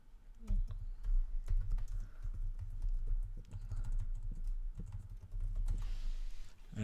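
Keys clatter quickly and continuously on a computer keyboard as a date is typed, close and distinct, with dull low thumps under the rapid clicks and no talking.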